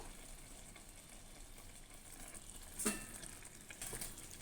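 Prawn and drumstick curry with curry leaves frying and being stirred in a pan, a steady close sizzle with a sharp clank of the spoon against the pan midway and a second scrape near the end.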